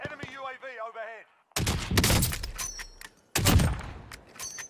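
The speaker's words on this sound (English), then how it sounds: "Nice little wall bang through the front of the truck window right there." Gunfire in the Warzone video game, shot through the front window of a truck: two dense bursts of loud, close shots, each a rapid cluster of cracks, preceded by a brief voice with game sounds.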